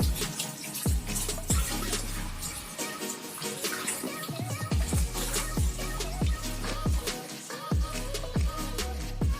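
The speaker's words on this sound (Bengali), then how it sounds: "এবারে মাছগুলোকে আমি জল দিয়ে ভালো করে ধুয়ে নেব।" Cut amudi fish being rinsed clean with water in a Bengali kitchen: close, irregular splashing and sloshing with repeated low thumps as the pieces are handled, no voices.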